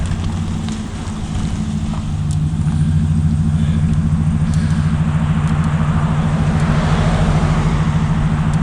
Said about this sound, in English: Stand here until the motor vehicle leaves the lot.